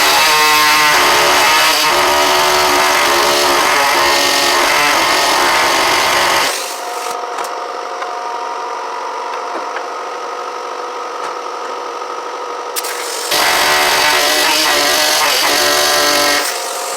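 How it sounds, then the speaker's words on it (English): An air body saw cuts through the rear axle area of a 1968 Mustang under restoration. A loud, harsh buzzing rasp runs close, stops for several seconds while a lower mechanical hum continues, then starts again. "I'm going to try a body saw. See if I can get through the rest of this."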